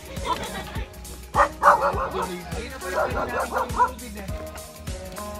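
A dog barks and yips several times in short bursts, close by, on a strawberry farm in Nueva Ecija, with people talking over and between the barks.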